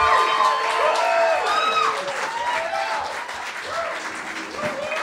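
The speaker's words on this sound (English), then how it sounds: "Give it up for Mr. Mike Moran!" A comedy club crowd applauding and cheering for comedian Mike Moran, dense clapping mixed with whoops and shouted cheers, loudest at the start and easing slightly but staying strong throughout.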